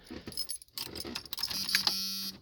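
A bunch of keys for a rusty 1992 Jeep XJ jingles faintly and close by in short metallic shakes, followed by a thin electronic tone near the end.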